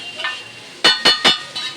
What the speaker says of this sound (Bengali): হালকা করে ফ্রাই হচ্ছে